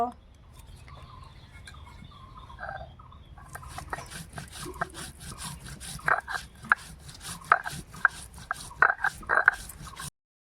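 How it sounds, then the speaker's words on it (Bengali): Cumin and ginger are ground into paste by hand, a quiet start giving way to a steady run of rough, scraping strokes that repeat rhythmically and grow louder toward the end. "জিরে আদা বেটে নেব"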